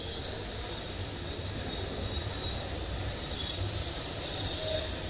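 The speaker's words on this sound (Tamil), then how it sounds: "அதுக்குள்ள இப்பதான் ஒரு ட்ரெயின் போச்சு" A Pune Metro train runs through a station, its wheels giving a steady, close squeal and hum that swells toward the end. No one speaks.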